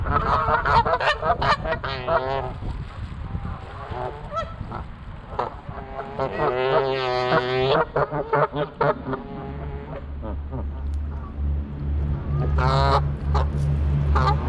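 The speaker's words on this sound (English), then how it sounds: "why I'm filming the geese again" Geese by a river spillway honk loudly and repeatedly in nasal bursts, several calls overlapping early on, a long honking run in the middle, then a low steady hum underneath before a final burst.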